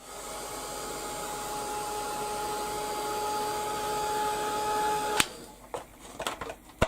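A heat tool blows a steady, loud whirring hum over watercolour paint for about five seconds, then cuts off abruptly, leaving a few faint clicks and handling knocks.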